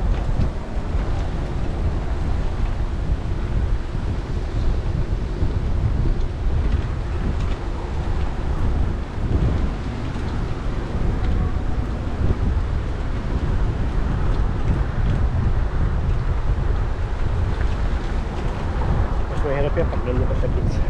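Strong coastal wind roars against the microphone while cycling along a beach path from Seal Beach toward Long Beach, a constant heavy rumble with someone talking over it.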